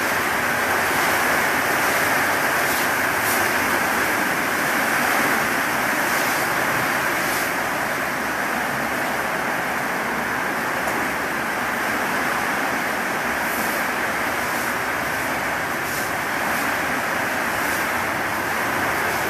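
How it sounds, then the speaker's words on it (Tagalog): Heavy rain and strong wind lash down during a typhoon, a steady, loud, continuous roar of pouring water and gusts filling the whole stretch without any talking. "grabe yung bagyo. Lakas ng ulan. Lakas ng hangin, lakas ng ulan."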